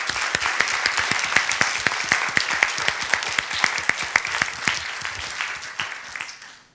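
An academic audience at a mathematics talk claps for a colleague's husband, a lively run of distinct individual claps from a modest room, loud and rhythmic before tapering off at the end.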